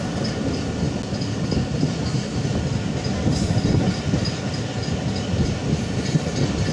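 A passenger train runs on rails in Pakistan between Rohri Junction and Karachi, a loud steady rumble of wheels with faint rhythmic clatter heard from on board, no talk.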